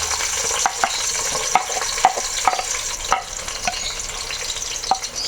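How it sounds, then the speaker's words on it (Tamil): Onion frying in hot oil with cinnamon, cloves and cardamom, producing a loud, steady sizzle close by, broken by quick stirring clicks and scrapes, with no one speaking. "நான் இதில் வந்து ஆனியன் ஆட் பண்ணிடுறேன்."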